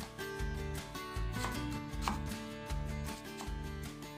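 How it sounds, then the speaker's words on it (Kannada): A knife chops a cleaned apple into small pieces on a board, giving quick, close, evenly spaced thuds, roughly eight firm strikes, with no one talking. "ಕ್ಲೀನ್ ಮಾಡ್ಕೊಂಡಂಥ ಆ್ಯಪಲ್ನ ಸಣ್ಣ ಪೀಸಾಗಿ ಕಟ್ ಮಾಡ್ಕೋಬೇಕು"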